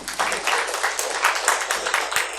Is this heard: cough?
no